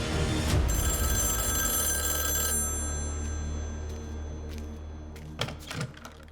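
A telephone rings with a shrill, sustained bell tone that cuts off, followed by quieter room ambience and a few soft clicks.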